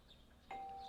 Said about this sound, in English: We're waking up because there's a doorbell.